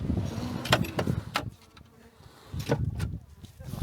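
Horse flies buzzing close by at a mountain lake in the Bosnian highlands, several loud passes swelling and fading around the listener, with a quieter stretch in the middle.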